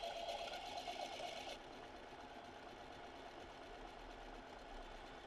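A zigzag sewing machine runs steadily at close range during free motion embroidery of rosettes, a continuous whirring hum that eases slightly in pitch and level after the first second and a half, with no voices.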